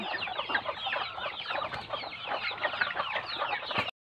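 A dense chorus of mother hens with chicks clucking and chattering continuously, many birds close together, cutting off abruptly at the end.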